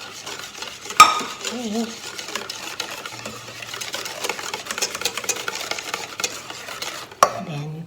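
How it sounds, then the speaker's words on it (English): Milk being stirred into an egg pie mixture in a bowl, a steady scraping and swishing with light utensil clinks, near and continuous, with a brief word spoken once. "now let's add the milk now, and then stir it or mix it until it's all well combined"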